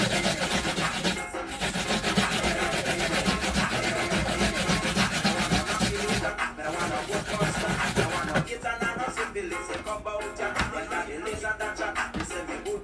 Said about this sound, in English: I just grate some pieces of coconut.